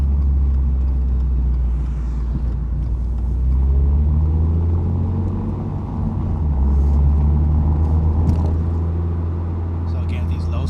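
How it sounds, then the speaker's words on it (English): A deep, droning aftermarket GReddy Supreme SP exhaust on a Toyota GR86 rumbles steadily at low speed, boomy and close, with someone talking over it. "You can definitely hear the exhaust a lot more."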